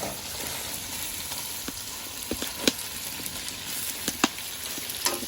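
Steady sizzling of ribs frying in hot fat in a cauldron over a grill, with scattered pops and crackles over a constant hiss, close up.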